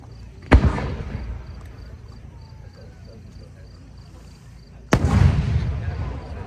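Two 8-inch aerial firework shells with red stars and twinkling pistils burst a few seconds apart at a competition, each a sharp distant boom with a rumbling tail and faint crackle.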